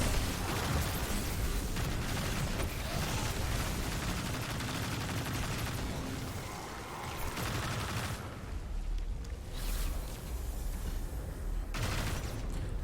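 Gunfire and explosions in Destiny 2 while a Warlock clears the Veles Labyrinth Legend Lost Sector, a dense, loud, near-continuous barrage of shots and blasts with almost no pause.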